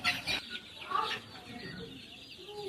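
Chickens on a small mixed farm cluck and squawk close by, a few sharp calls early, then quieter background clucking.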